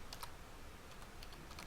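Rapid keystrokes on a computer keyboard while entering a password, a quiet run of light clicks clustered in small bursts with no voices.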